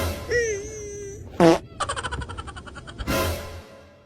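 A comedic fart sound effect in a Filipino comedy sketch, a short loud burst in the middle followed by a rattling sputter and a second blast, mixed with squeaky cartoonish effects and brief vocal sounds.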